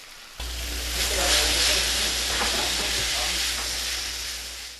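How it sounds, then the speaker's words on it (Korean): Dried radish greens stir-fry in a hot pan with perilla oil, minced garlic and a splash of anchovy broth, giving off a steady, loud sizzling hiss that starts abruptly and continues throughout. "달궈진 팬에 들기름을 두르고 다진 마늘로 향을 낸 다음 빠금장 시래기에 멸치 육수를 조금 부어 볶는다"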